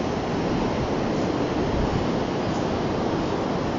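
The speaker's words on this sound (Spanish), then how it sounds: "no ha sido tsunami, solo la marea alta, pero bien alta" High-tide surf surging onto Asia beach near Lima, a loud continuous wash of breaking waves with wind buffeting the microphone and no voices.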